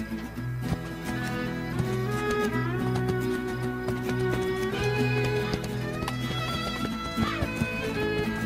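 The horse Spirit gallops in a video game, hooves clip-clopping rapidly beneath loud neighs and whinnies, all mixed over tonal background music.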